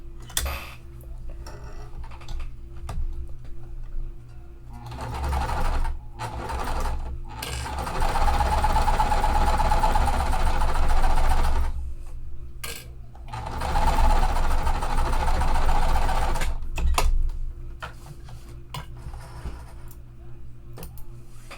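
A sewing machine stitches a larger clipped quilt block seam for a Cotton Cuts mystery quilt, running in two long steady bursts with quieter handling and ticking mechanism sounds between them.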